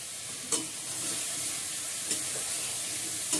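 Spices and masala sizzle and fry steadily in a pan with turmeric, with a few sharp stirring clinks against the metal, close and fairly quiet, no talking.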